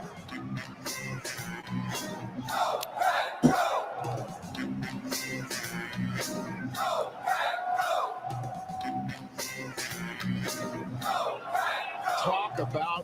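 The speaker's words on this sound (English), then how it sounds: "Listen to this crowd." A large crowd at an NFL draft watch party cheers and yells in rolling waves of shouts and whoops, with bursts of noise recurring across the clip.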